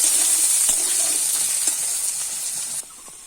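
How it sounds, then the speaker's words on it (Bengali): Potatoes frying in oil in a pan give a loud, steady sizzle and hiss that drops off abruptly near the end, with a few faint stirring taps and no talking. "এখন আমি আলুটা ছেড়ে দিলাম। আলুটা ভেজে নিতে হবে।"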